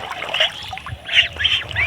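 Village ducks quack in short, nasal, honking bursts, several calls overlapping in quick irregular succession, heard close and fairly loud, with faint background sounds beneath.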